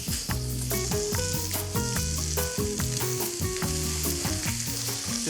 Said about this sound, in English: You just need a pan that gets really hot so we get a good sear.